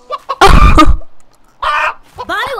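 Chickens in The Sims 3 cluck in short, loud, close bursts as they are being fed, with brief gaps of near silence between calls.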